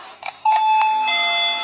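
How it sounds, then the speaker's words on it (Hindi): An electronic doorbell chimes indoors, a couple of soft tones followed by a clear, ringing ding that sustains and slowly fades, alone in a quiet room. "कुछ देर बाद डोरबेल बजती"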